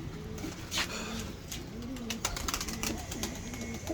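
Breeder pigeons coo softly in a small backyard setup, repeated low throaty coos rising and falling across several seconds, with light rustling and a few sharper clicks around them.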